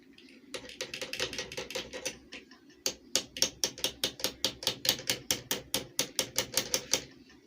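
A hammer taps on a stopper part of a JUKI LBH 761/781 sewing machine, about two dozen sharp metallic strikes in a quick steady rhythm, close and crisp with a short pause midway.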